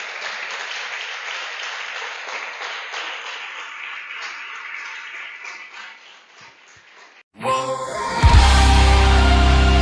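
Congregation applause at a church service, a steady wash of clapping that runs for about seven seconds before breaking off and giving way to loud music.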